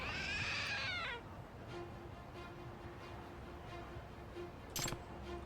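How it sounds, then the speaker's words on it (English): Trick statue in the video game Lost Judgment lets out a clear, close cat-like meow lasting about a second, followed by a quiet game hum and a short click. "It meowed. So it's a trick statue."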